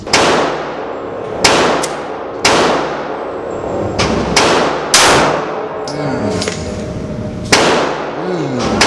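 Gunshots at an indoor shooting range, a series of about eight loud, sharp reports spaced a second or so apart, each with a brief ringing echo off the hard walls, with faint voices between shots.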